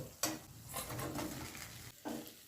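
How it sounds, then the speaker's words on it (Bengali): Fried snakehead fish being stirred into masala in a pan, with close scraping strokes and clattering bursts over a low, steady sizzle, and no talking. "ভাজা মাছটা দিয়ে মশলার সঙ্গে 30 থেকে 40 সেকেন্ড নাড়াচাড়া করে নিলাম।"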